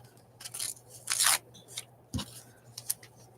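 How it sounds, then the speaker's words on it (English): A piece of paper is torn from a collage roll, making close, crisp ripping and crackling bursts with a short thump partway through, and no talking. "So let's just tear this part off here."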